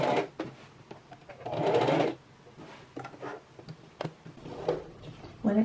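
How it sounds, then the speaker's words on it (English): A sewing machine runs straight stitches along a dress skirt, in short bursts with a longer steady run near the start and brief pauses and handling noises between. "I'm going to start doing straight stitches right underneath those two thread tails"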